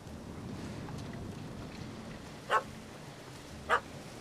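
A dog in The Witcher 3 game barks at a cat up a tree: two short, sharp barks a little over a second apart, heard at a distance over steady wind-like ambience.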